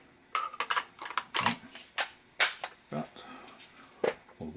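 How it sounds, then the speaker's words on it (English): Metallic clicks and snaps as the magazine goes back into a Benelli R1 semi-automatic rifle chambered in .338 Winchester Magnum during reassembly: a string of sharp, close taps and rattles of varying loudness, with no voice over them. "And then put the magazine back in."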